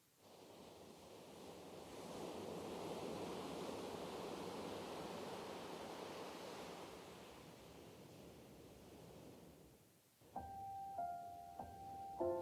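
Ocean waves in the SeaBed video game swell into a broad, steady rush of surf, then fade away. A few soft tonal chime notes follow at the end.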